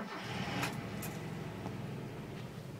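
A 1992 Mazda B2000 pickup truck's engine starts, a low mechanical churn that catches and settles into a quiet, steady idle, heard fairly close.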